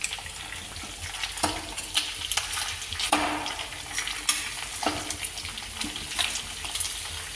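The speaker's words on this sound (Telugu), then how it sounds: "ఈ లోపల చికెన్ ఫ్రై చేస్తాను" Chicken fries in a pan for biryani with a constant hiss that sounds almost like running water, while occasional sharper clatters and stirring knocks rise above it. No one speaks.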